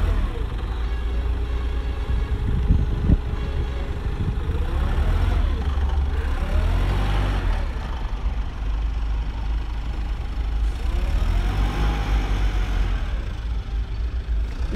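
A Mitsubishi FDE20T 2.0 ton diesel forklift runs under a technician's test operation, a loud close diesel rumble with rising and falling revs as it drives and lifts, and no talk.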